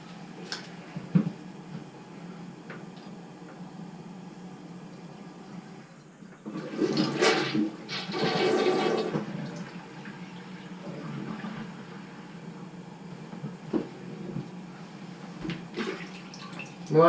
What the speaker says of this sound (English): So it's pretty hard to flush the toilet too.